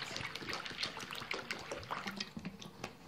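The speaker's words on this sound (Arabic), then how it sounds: "وهنحط عليها مية وننقعها حوالي 7 ساعات" Water is poured over fava beans in a wide container to soak them, giving a low, uneven trickle and splash with small drips, quiet and close, with no talking.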